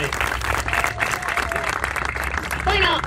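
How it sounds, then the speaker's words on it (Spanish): An audience at a live show in Lanús bursts into sustained clapping and applause, with a host's voice talking over the crowd. "A ver el aplauso de respaldo."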